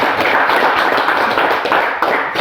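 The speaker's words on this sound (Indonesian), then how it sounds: "mari kita berikan tepuk tangan lagi untuk kelompok 2." Classroom group clapping for a presenting group during a teacher-training session, steady dense claps filling the whole moment at close range.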